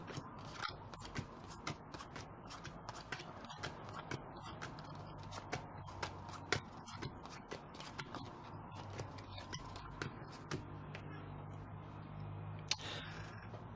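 Sushi Go Party cards dealt out on a table, making a steady run of quick, soft flicks and slaps for several seconds, close and fairly quiet with no voices.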